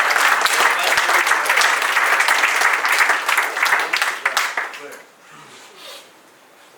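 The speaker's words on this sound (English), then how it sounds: "Again, a big clap to all the businesses." Audience applause at a BPCL corporate event in Sewree, Mumbai, a dense, steady clapping from many hands that carries loudly for about five seconds before tapering off to quiet.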